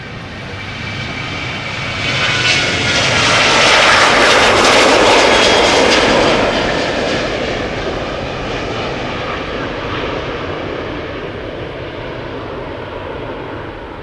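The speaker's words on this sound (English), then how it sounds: "You well, KLM 737 over there." A KLM Boeing 737 jet airliner at Amsterdam Schiphol Airport, its engines building to a loud, broad roar that peaks after a few seconds and then eases into a sustained rumble as the plane passes at moderate distance.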